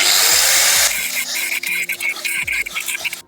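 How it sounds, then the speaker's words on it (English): An angle grinder working on the outer sill of a Ford Transit van during rust repair, a loud close high-pitched whine that cuts out after about a second, followed by quieter scraping and clattering. "Just grab the angle grinder."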